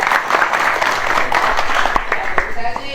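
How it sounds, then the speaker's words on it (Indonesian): A crowd claps at a gathering, steady dense applause with a few distinct sharp claps, heard alongside background talk and noise. "Ya, tepuk tangan ya semuanya bahagia."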